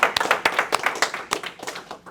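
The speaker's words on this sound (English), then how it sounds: "So let's give yourselves a round of applause." A room of attendees at a first-time home buyers event clapping together, a burst of fairly close, dense handclaps carrying on steadily for a couple of seconds with no talk over it.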